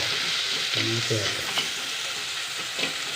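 Green chillies and mustard seeds fry in hot oil with a loud, continuous sizzle, and a brief stirring scrape rises above it early on.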